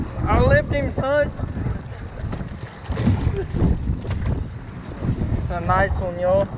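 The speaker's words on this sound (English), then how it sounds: "It's windy as crap out here." Strong wind buffets the microphone on a bridge while fishing, a broad continuous roar that swells and eases throughout, with people talking over it near the start and end.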